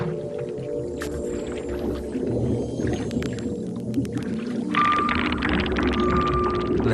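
Whales in ice-covered Arctic seas call underwater in a dense, continuous chorus of whistles, clicks and rising tones, with a steady pitched whistle emerging near the end, all heard clearly with no talk.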